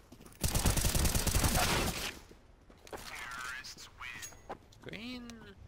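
Rapid automatic gunfire in the video game CSGO rattles out as one loud, dense burst lasting about a second and a half, then gives way to voices talking over quieter game sounds.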